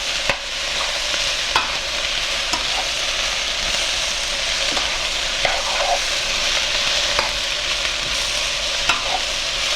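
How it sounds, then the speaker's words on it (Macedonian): Chopped onion sizzles steadily in hot oil in a pan, with a spatula scraping and stirring through it in a continuous close, loud hiss for nearly ten seconds, no voices. "За да го провериме кромидот кој се пржи и веќе добива убава пожолтена боја."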